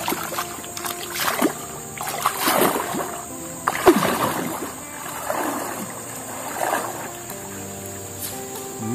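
Dozens of monkeys leaping into a shallow, moss-filled river, giving a series of splashes at irregular intervals over steady flowing water, some close and sharp, others softer.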